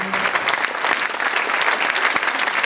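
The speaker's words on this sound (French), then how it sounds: "On va pouvoir applaudir bien fort" A short burst of loud, dense applause from an audience at a business chamber event, continuous and close.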